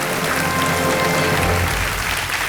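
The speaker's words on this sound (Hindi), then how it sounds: "ताली बजते रहने चाहिए इनके लिए।" Studio audience applause on the KBC Under 25 quiz show, a dense and steady roar of clapping that stays loud and even from start to finish with no voices over it.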